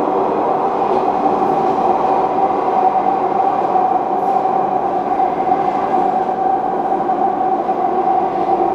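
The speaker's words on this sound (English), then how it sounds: "There's a train coming." A London Underground train rumbles loudly and steadily through a tunnel past disused South Kentish Town station, a continuous roar with a faint rattling of wheels on track, no voices.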